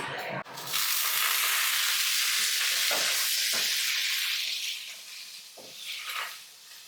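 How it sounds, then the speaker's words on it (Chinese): Crayfish sizzle loudly in a hot wok with Sichuan peppercorns, a dense continuous frying hiss with stirring scrapes, fading slightly then rising again near the end, with no talking. "我们炒香，放入小龙虾"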